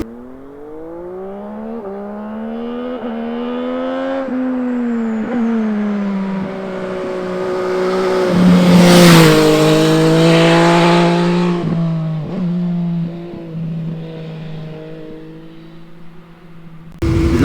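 MV Agusta Brutale 800 three-cylinder 800 cc motorcycle engine revving up and down while riding, loud and close, with rising and falling pitch, a peak surge midway, and gear changes, no talking.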